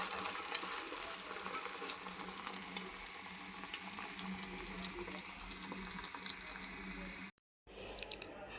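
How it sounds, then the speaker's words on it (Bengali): An egg frying in a pan while breakfast is prepared, a steady close sizzle and crackle running continuously before a brief cutoff and resuming. "আর এই যে ডিম ভাজি করতেছি।"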